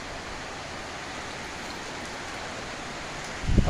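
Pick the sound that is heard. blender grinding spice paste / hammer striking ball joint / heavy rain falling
heavy rain falling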